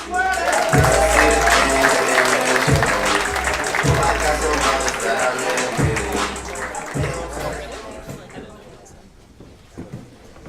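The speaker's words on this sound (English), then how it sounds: "A big round of applause for Mike Knox." Audience applause at a comedy club show, dense clapping with thumping beats of background music underneath and some chatter, the applause fading out toward the end.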